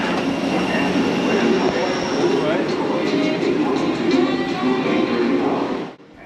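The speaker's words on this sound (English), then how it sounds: "The Skylink train runs every few minutes connecting all terminals" The DFW Skylink airport train runs with a steady loud rumble and faint wheel squeal, a voice speaking over it, before the sound drops away abruptly near the end.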